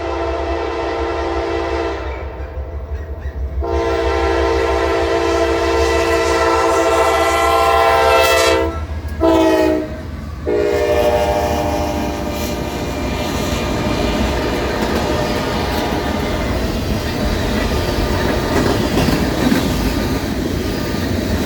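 A Norfolk Southern freight train passes at track speed through Woodville, Alabama, a loud continuous roar of wheels and engines with sustained horn tones, and a brief dip in the sound midway before the rumble carries on.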